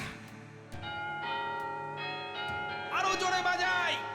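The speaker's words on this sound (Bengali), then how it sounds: "বাজাও না, ঘন্টাটা বাজাও" A metal bell is struck several times in quick, uneven succession, each clear ringing tone lingering and overlapping the next. A voice speaks over the last second.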